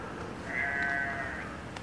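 A sheep gives a single drawn-out bleat of about a second, moderately close, over a low steady background noise.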